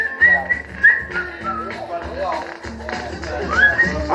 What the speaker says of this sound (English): I like to start off all my songs by a little whistle